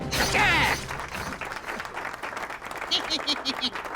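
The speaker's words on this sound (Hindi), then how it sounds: "तालियां" A short burst of clapping from a gathered group honouring someone on a stage in a comedy TV episode, loud at first and then fading quickly beneath voices.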